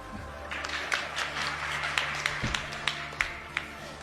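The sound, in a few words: audience clapping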